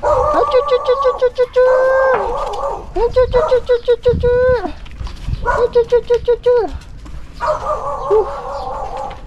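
A dog howls and bays in long, repeated cries close by, with breaks between them and other household sounds in the background.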